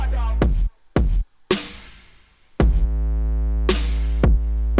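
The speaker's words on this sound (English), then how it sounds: "Now together with the bass, the kick and the snare, it sounds like this." An FL Studio hip-hop beat loops deep sustained bass under punchy kick hits and layered snares with a reverb tail, the full pattern playing loud with brief drop-outs between sections.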